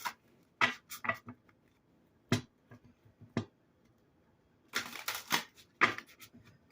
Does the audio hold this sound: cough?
no